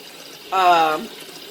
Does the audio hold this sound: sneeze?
no